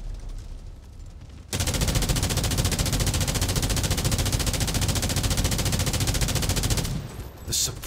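Sustained rapid machine gun fire in the shooter game Delta Force: Hawk Ops, a loud continuous burst lasting about six seconds after a quieter opening, then cutting off with a short final rattle.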